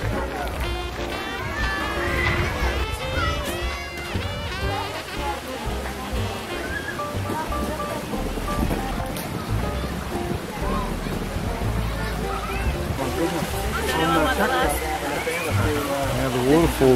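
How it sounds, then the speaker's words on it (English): Continuous rushing of water feeding a waterfall at Cranbourne Botanic Gardens in Melbourne, a steady broad wash heard throughout beneath people talking close by. "That's all the water coming to make the waterfall."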